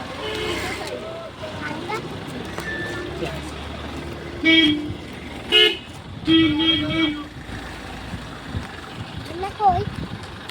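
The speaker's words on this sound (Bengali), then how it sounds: "গাড়ি আসছে" A car approaching on a road and sounding its horn in several short, loud toots in quick succession, amid people talking nearby and background outdoor noise.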